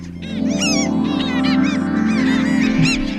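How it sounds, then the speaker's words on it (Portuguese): A dense chorus of gulls calls over the Solimões River in the Amazon, with loud overlapping cries and squawks that run continuously without a break. "É com essa sinfonia das gaivotas, no meio do rio Solimões"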